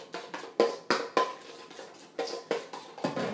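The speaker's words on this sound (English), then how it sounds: "Okay, stir that in." Lemon juice being stirred into a crab cake mixture in a bowl: a series of distinct clinking, scraping utensil strokes against the dish, close and moderately loud, in an uneven rhythm with no talk.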